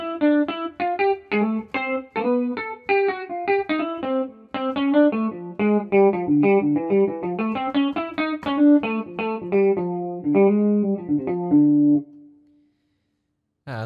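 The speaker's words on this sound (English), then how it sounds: "we even have some jazz guitar tones, if I can find them. Here we go. So here's kind of a smooth jazz thing." An electric guitar plays a smooth jazz tone, with clean chords and a melodic line at a moderate pace, ending on a sustained note and then silence.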